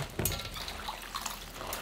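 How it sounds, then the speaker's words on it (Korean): Young radish greens kneaded by hand in a basin of water, soft sloshing and splashing with small drips and bursts, close and fairly quiet. "근데 이 물속에서 치대야 돼요."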